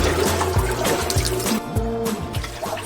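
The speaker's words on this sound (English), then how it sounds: "may have been our only platform bucket bath of the trip" Water splashing and trickling from a bucket during a bath on a sailboat's platform in calm mid-Atlantic water, several close pours and drips with no talking.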